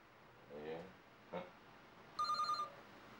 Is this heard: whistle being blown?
no